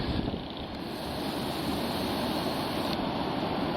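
Atlantic Ocean surf rolling in at Smith Point on Long Island's south shore under high riptide warnings, a continuous broad wash of breaking waves mixed with wind buffeting the microphone, steady and full throughout.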